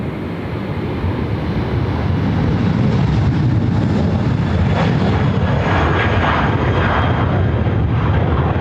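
An airliner landing on runway 34 left at Sydney Airport, a loud steady engine roar that swells and holds as it passes nearby, with no speech.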